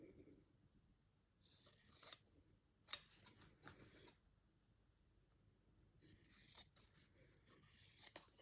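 Scissors trimming quilt fabric, several separate bursts of crisp snipping and cutting close by, with small clicks and quiet pauses between cuts and no talking.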